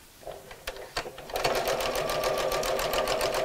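A sewing machine stitches ribbon onto a Christmas gift sack, starting with a few slow single stitches and then running into a steady, rapid mechanical chatter, close and clear, with no talking.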